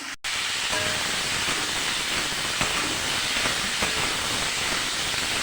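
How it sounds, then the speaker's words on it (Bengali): Potato and eggplant pieces frying in a pan with a little salt and turmeric give a loud, even, continuous sizzle that starts abruptly and holds steady at close range. "ভালো করে ভেজে নেব সবজিগুলোকে"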